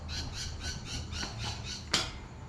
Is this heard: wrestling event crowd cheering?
no